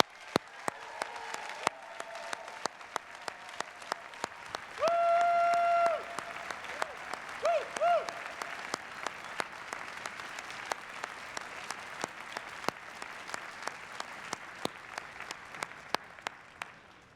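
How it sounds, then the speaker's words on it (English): Audience applause at Harvard Alumni Day, a steady wash of clapping from a large crowd in a hall that carries on through the whole stretch, with a short tone sounding briefly partway through. "Let's give Courtney B. Vance another major round of applause."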